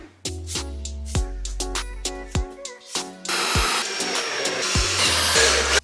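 Screws being driven into a wooden planing jig for a thicknesser, likely with a power driver: several short bursts of whirring at close range, followed by a longer continuous run that is louder and more steady.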